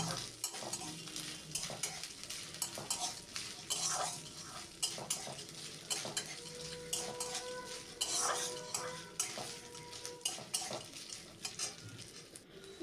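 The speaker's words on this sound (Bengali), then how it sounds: "এরপর এই তেলেতে নারকেলগুলো আমি ভালো করে ভেজে নেব। একটু লাল লাল করে আমি নারকেলগুলো এভাবেই নেড়ে চেড়ে ভেজে নেব।" Coconut pieces sizzle in hot oil in a pan for a vegetarian chana dal, with frequent scraping and clinking of a spatula stirring them, close and continuous.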